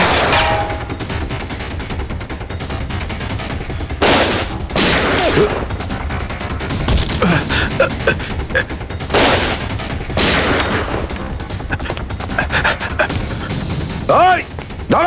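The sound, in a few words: gunfire in a TV crime drama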